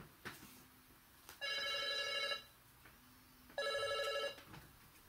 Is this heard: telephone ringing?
yes